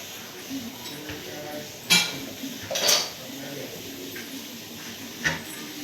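A knife cuts an apple on a plate, giving a few sharp clinks and scrapes of metal on crockery at irregular moments against quiet room background.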